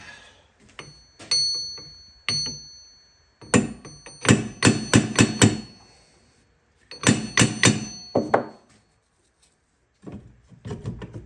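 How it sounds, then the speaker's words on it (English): Sharp metallic hammer blows ring against a Crown Vic 8.8 rear axle housing in a garage, single strikes at first, then quick bursts of four or five ringing hits, each leaving a brief metallic decay before silence. "Let me just grab a hammer and do that."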